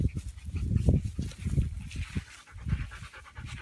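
Six-week-old puppies pant rapidly and scuffle up close, with bursts of breathy huffing and small whimpering sounds coming in uneven rhythms.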